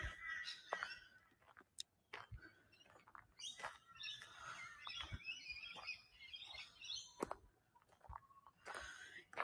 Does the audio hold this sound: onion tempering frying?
no